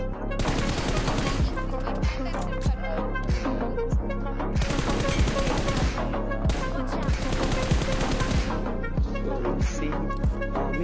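Gunfire from the mobile battle royale game BGMI (PUBG Mobile) keeps up a dense, continuous run of rapid automatic bursts mixed with heavier single shots, loud and close, with no pause for the whole stretch.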